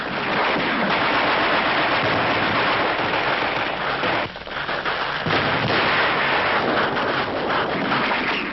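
Rifle fire at snipers in wartime Manila, rendered as a dense, noisy run of crackling shots and blasts that continues throughout with a brief dip in the middle.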